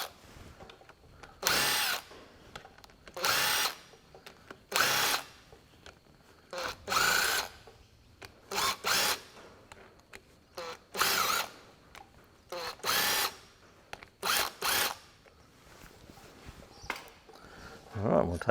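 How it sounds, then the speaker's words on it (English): Makita DTW cordless impact wrench working on a John Deere 4WD tractor front hub: a string of short, loud bursts, roughly a second or two each, separated by brief pauses, close up, with someone talking between them. "we'll pop the little Makita DTW on it"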